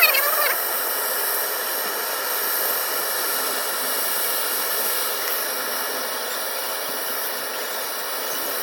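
A gas torch brazing refrigerator copper pipes during a cooling repair, giving a steady roaring hiss that holds at an even level throughout and stays close.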